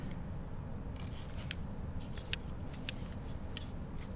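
Scissors snip off a thread tail while signatures are sewn together for bookbinding, a few quiet, crisp metallic clicks over a low steady room hum with no talking.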